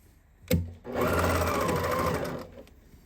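A sewing machine runs in one steady burst of stitching on a pillowcase, preceded by a short mechanical clunk, then stops with a faint click afterward; close and fairly loud, with no talking.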